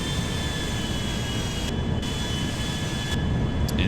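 Jet engines of an Airbus A350 mod in the GTA 5 video game drone in a steady, loud roar on final approach, with a thin high whine running through it and no talk.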